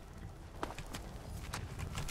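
Horse hooves clip-clop at a walking pace in the video game Skyrim, a string of soft, evenly spaced thuds at moderate distance over a low ambient bed, with no talking.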